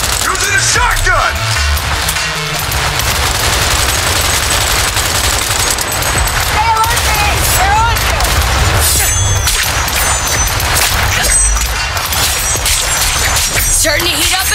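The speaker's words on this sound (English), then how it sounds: "I will not be surrounded! Using a shotgun!" Shotgun fire in Cyberpunk 2077 Phantom Liberty tears through a dense, nonstop battle mix of rapid gunshots, crashes and clattering effects, with voices shouting over the constant loud din.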